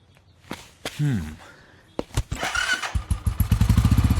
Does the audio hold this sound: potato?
no